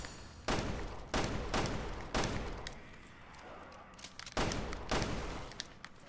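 Gunshots in the survival horror game Resident Evil Revelations 2, about seven loud, sharp single shots spaced roughly half a second to a second apart, each with a short echoing tail, close and clear.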